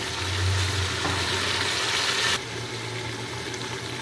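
Chicken sizzles and fries steadily in masala in a pot for chicken pulao, a continuous close, moderately loud crackle with a slight drop in intensity partway through and no talking.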